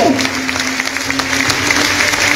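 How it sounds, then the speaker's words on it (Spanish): Mourners in San Juan La Laguna, Guatemala, applaud at their mayor's funeral, a dense, steady clapping from a close crowd with a faint tone running underneath. "Fuerte el aplauso, fuerte que se oiga."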